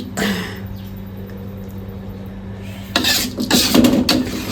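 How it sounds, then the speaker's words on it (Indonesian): Metal utensils scrape and clink against a pan and plate while spicy eggplant balado is moved onto a plate, starting with a quieter scrape and then a busy burst of clattering toward the end. "Saya akan pindahkan ke piring ya teman-teman."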